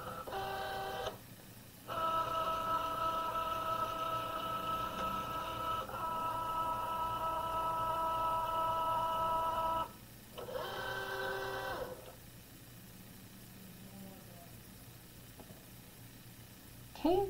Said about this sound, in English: I'll just go ahead and click on the go again and let the machine run it one more time.